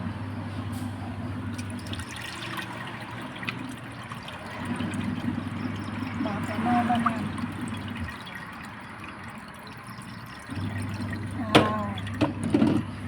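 Yanang leaf juice pours and trickles steadily into a pot of bamboo shoot curry over a low background hum, with occasional clinks and faint voices nearby.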